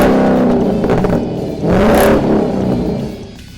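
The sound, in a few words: 2015 Ford Mustang with Cervini's side exhaust revving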